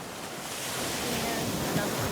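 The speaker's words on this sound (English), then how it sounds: "another view of Coco Beach, Salaam, Tanzania, East African Ocean, or Indian Ocean, whatever you want to call it" Indian Ocean surf rolling onto Coco Beach in Dar es Salaam, Tanzania, heard as a steady, broad wash of waves with some wind noise on the microphone and no voices.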